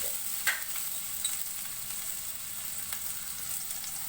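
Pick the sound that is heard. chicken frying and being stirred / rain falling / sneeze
chicken frying and being stirred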